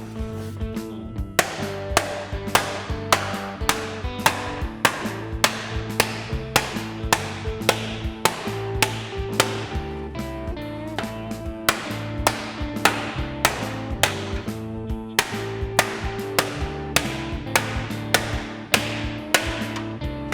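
A mallet strikes sheet metal in a fast, steady rhythm, dozens of sharp ringing blows close by, with only a brief pause partway through.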